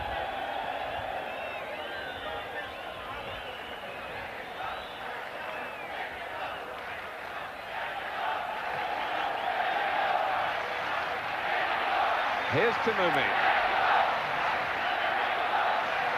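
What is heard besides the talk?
football crowd chanting for Mexico at 1986 World Cup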